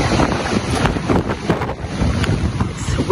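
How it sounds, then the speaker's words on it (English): Strong wind from Hurricane Beryl buffets the microphone in steady rumbling gusts, with the wash of rough sea water beneath. "It's windy."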